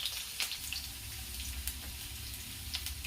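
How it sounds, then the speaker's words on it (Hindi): Eggplant pieces dropped into a pan of frying potatoes set off a steady, soft sizzle and crackle, with a few brief pops, close by and fairly quiet, with no one talking. "अब इसमें मैं बैगन डाल रही हूँ।"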